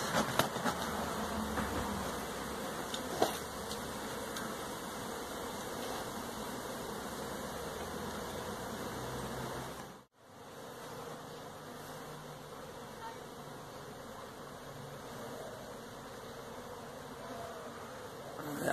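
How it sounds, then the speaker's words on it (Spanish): A dense, steady buzz of many honeybees from a hive inside a masonry wall, continuous with a brief dropout midway before resuming. "Todo eso está lleno de abejas."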